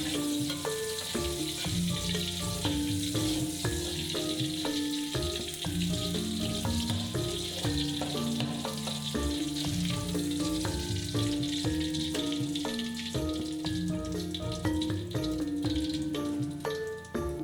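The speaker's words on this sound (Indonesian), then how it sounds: "Dan baru yang terakhir kita goreng terasi dan juga ebinya." Steady sizzling of shrimp paste and dried shrimp frying in hot oil, continuous and close, with faint background music and no talking.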